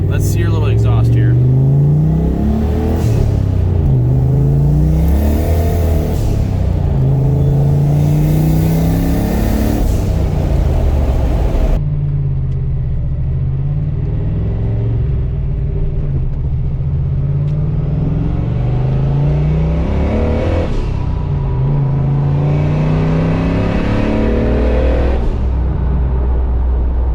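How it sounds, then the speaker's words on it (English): Loud engine of a 1989 turbocharged Ford Mustang Foxbody revving repeatedly, rising and falling with turbo spool whine, blow-off valve and exhaust rumble, close by; a voice speaks intermittently over it. "You could hear the exhaust and the blow-off valve and you know, the spooling of the turbo."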